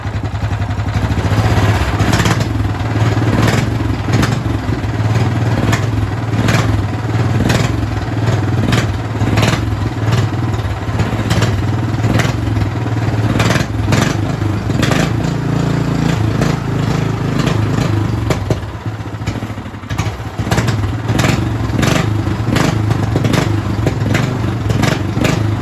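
A small engine on a lawn race kart fitted with a custom exhaust runs loud and close for a long stretch, a steady rough idle with repeated blipping revs and rattly clatter.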